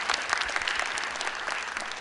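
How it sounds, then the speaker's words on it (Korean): Audience applause at a multicultural sound festival concert in Tongyeong, dense and steady clapping throughout the short clip, moderately loud and heard alone. "수고해주신 분들께 다시 한번 큰 박수 부탁드리도록 하겠습니다."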